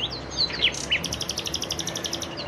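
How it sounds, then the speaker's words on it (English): Several birds chirp and whistle outdoors, with a rapid run of bright repeated notes in the second half over a quiet low background hum. "it was just me and the birds. Oh, listen to that one."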